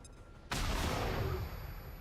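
A flashbang goes off in the video game XCOM 2: after a quiet half second, one sudden loud bang hits and decays into a long, rumbling rolling tail.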